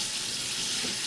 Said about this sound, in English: I think I was turning on the hot water, which probably isn't the best idea.